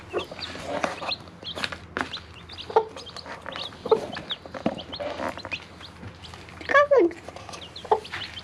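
Hens cluck steadily in a henhouse where chicks are hatching, with sharp, higher chick peeps and a few louder squawks in the middle and near the end.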